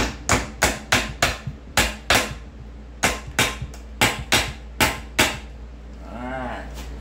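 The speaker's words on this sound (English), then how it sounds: "And then you just take your little hammer or whatever you got. I use a hammer. And then you tap." Hammer taps on the case of a GY6 150cc scooter transmission while it is being opened, about a dozen sharp knocks in an irregular rhythm, close and loud, followed by a brief ringing tone at the end.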